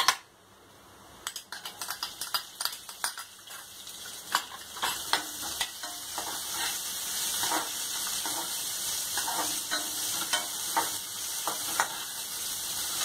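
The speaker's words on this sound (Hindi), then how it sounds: "लहसुन को थोड़ा सा भूनने के बाद आपने डालने हैं प्याज।" Chopped garlic and onion sizzle steadily in a hot pan for Punjabi-style leftover chapati noodles, with a spoon scraping and stirring in quick, uneven clicks over the continuous frying hiss, close up and with no talking.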